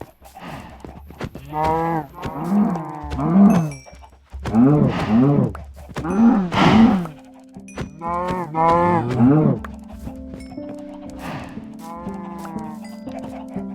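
Several Minecraft cows moo in a series of long, drawn-out lowing calls, loud and close, with a faint steady background hum and clicking in between.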